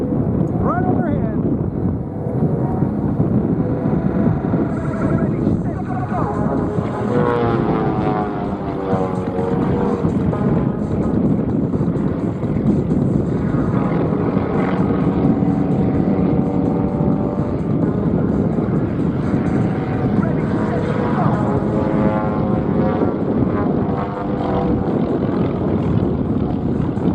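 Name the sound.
aerobatic aircraft flying overhead in close two-plane formation at airshow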